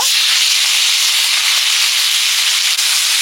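Koi fish frying in a pan, a loud, dense, continuous hiss of hot oil heard up close and steady throughout, with no talking.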